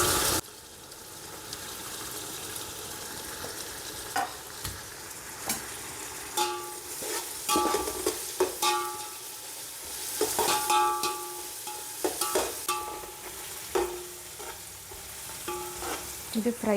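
Onion frying with freshly added coriander and mint in an oil-filled pan: a constant hiss of sizzling broken by repeated scraping and clattering stirs, close and loud, with no voices.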